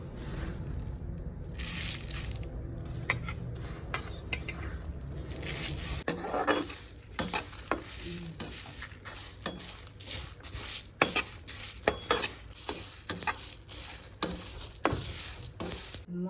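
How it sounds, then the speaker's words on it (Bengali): Dried chillies, cumin, coriander and mustard seeds are dry-roasted in a pan, with a soft rustling sizzle and repeated scrapes and clinks of a spatula stirring the spices, close and continuous. "মশলাটা ভাজা হয়ে গেছে, আর নামাই দেব"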